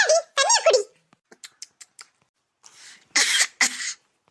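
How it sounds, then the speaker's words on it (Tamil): A girl coughs in several close, rough bursts, with sharp short coughs and throat noises in between, at home. "அவ பாட்டுக்கு இருமிக்கிட்டு கிடக்கா."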